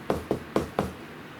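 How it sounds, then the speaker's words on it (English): Four quick, evenly spaced knocks land on a house door, close and distinct, followed by a brief quiet. "Knock at the door."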